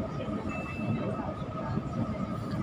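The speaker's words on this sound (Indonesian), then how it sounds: "Kali ini vlog di dalam kereta ya." Steady low rumble and hum of a train interior, with faint murmuring voices in the background.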